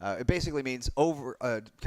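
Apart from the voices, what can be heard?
No everyday noise stands out behind the speech.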